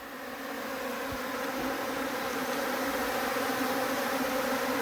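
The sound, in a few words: bees buzzing around a hive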